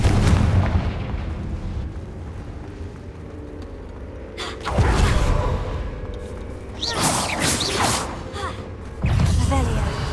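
The Confringo explosion spell in Hogwarts Legacy, several booming blasts with whooshing bursts spaced a few seconds apart over a rumbling background, with voices speaking at points.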